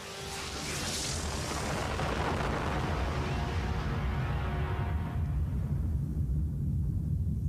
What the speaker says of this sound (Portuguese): No dia 16 de julho, acontece a primeira explosão atômica no deserto do Novo México.